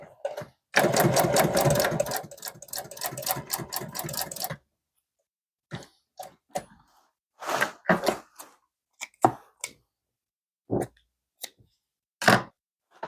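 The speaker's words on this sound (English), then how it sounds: "I will sew these together" Sewing machine stitching boat carpet pieces together, a fast rattling chatter in a steady burst, then short start-stop runs of stitching separated by silences.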